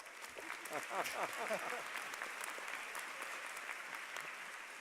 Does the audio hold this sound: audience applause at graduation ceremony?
yes